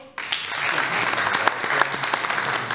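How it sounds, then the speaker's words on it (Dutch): A dense burst of audience applause in a village hall during a local election debate starts sharply and carries on steadily, close and fairly loud. "U krijgt ook applaus."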